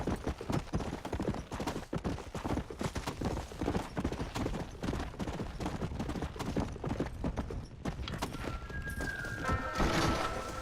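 Hooves clatter in a fast, continuous gallop in Red Dead Redemption: Undead Nightmare, a horse ridden at speed with dense rhythmic thuds throughout and a brief whinny near the end.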